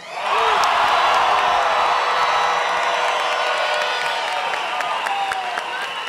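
Attendees at an election victory event in Bogotá applaud and cheer, a loud sustained roar of clapping and shouting voices that swells early and then slowly eases.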